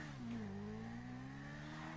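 A motorcycle engine in the video game GTA V, a Dinka or Bati sport bike, revs and drones steadily. The sound is faint and sustained, with the pitch dipping briefly and then holding.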